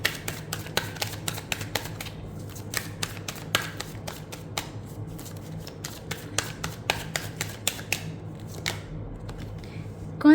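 Tarot cards being shuffled and drawn by hand, a run of sharp, crisp card flicks and snaps in an irregular rhythm, close and fairly quiet over a low steady room hum.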